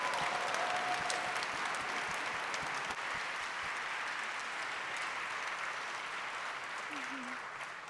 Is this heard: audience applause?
yes